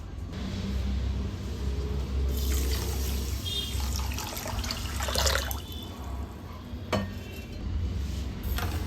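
One and a half cups of water poured into a cup of sugar in a pot for syrup, a steady close trickle and splash with some clinking of utensils.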